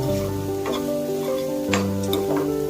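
Onions and curry leaves frying in a pan for a ridge gourd fry give a soft, steady sizzle with light stirring, partly covered by sustained background music.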